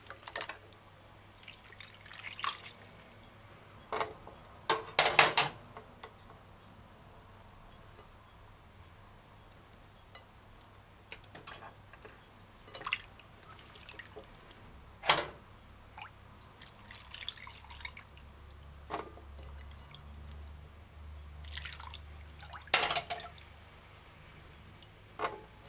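Cherries are rinsed under running tap water, heard as quiet dripping and irregular splashes with occasional louder bursts of water in a sink.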